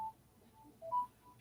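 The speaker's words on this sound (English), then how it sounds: "That's my phone." A phone sounds a short series of electronic tones, a few clean beeps of differing pitch at a steady spacing, faint and isolated, with no voices.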